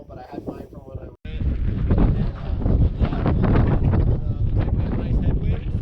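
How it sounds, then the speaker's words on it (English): Strong headwind buffeting a microphone on a desert bike-packing ride near Moab, heavy roaring gusts that rise after a brief lull and stay loud throughout, with a voice talking under it at the start. "Nice headwind, so that'll slow us down"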